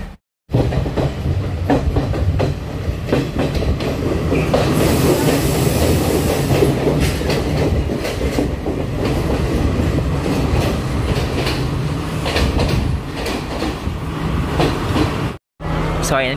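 A passenger train at Kandy station in Sri Lanka fills the air with a loud, close, continuous rumble and rhythmic wheel clatter that lasts nearly throughout, with brief gaps at the very start and end.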